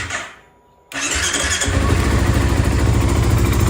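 A 2008 Kawasaki KFX 450R quad cranks briefly, then its engine catches at about one second and settles into a loud, steady, close idle that runs alone to the end.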